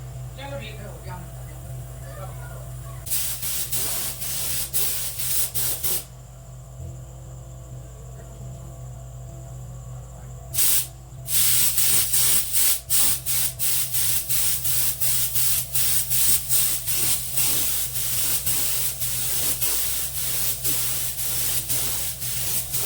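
A paint sprayer painting a large RC F-18 Super Hornet model plane hisses in bursts, first a long spray, then after a pause a rapid series of short pulses, over a constant low electrical hum.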